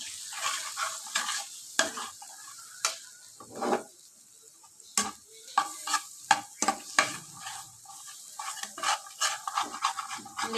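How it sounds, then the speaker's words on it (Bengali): Spice masala for dhokar dalna is sautéed in a pan, with a steady sizzle broken by repeated scraping stirs and clinks of the spatula. The strokes come close and fairly loud, with no voices. "এবারে একটু কষাবো এটাকে মশলাটাকে"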